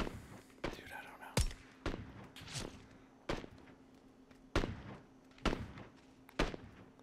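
Gunfire in the PUBG battle royale game: several sharp, fairly distant shots spaced irregularly about a second apart, with quiet voices heard between them.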